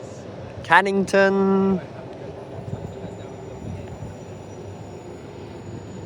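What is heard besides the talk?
train on the reopened Armadale Line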